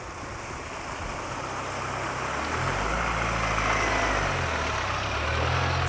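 Water rushes steadily at a water feature on a Vaalwater game farm. It is a constant broad wash with a low engine rumble underneath that rises midway.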